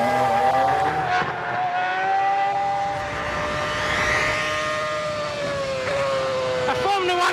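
A 2007 Williams Toyota FW29 Formula One car at speed, a loud, sustained high-pitched engine whine rising and falling through gear changes, heard from the cockpit with no talk.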